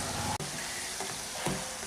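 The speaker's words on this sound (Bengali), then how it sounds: "এইগুলোকে ভাজার সময় আমি কিন্তু আঁচটাকে একটু কমিয়ে নিয়েছি" Urad dal vadas deep frying in hot oil over a medium flame give a steady, close sizzle with a brief dip and a few small pops, and no voices.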